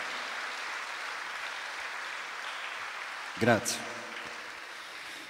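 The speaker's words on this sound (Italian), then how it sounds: "Io gli farei un applauso" An audience claps in a soft, continuous patter that runs the whole length, while someone speaks briefly over it partway through.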